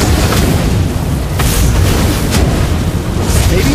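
Fiery explosion from Valir's Lava Burst skill in the Mobile Legends: Bang Bang game, a loud, continuous roaring blast with sharp bursts layered throughout.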